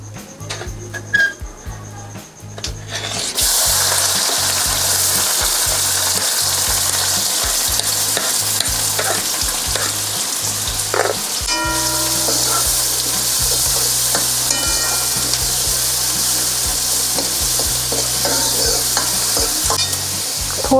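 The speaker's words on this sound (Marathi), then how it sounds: "जिरं छान फुललं की आपण कांदा टाकून घेऊया।" Onion hits hot oil with cumin seeds in a pan, setting off a sudden loud, steady sizzle after a few quiet seconds of popping seeds and light scraping, with stirring clatters partway through.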